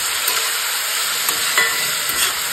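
Chopped vegetables stir-fry in olive oil in a large wok (kadai), a loud continuous sizzle close up with a few scrapes and clinks of stirring, no speech.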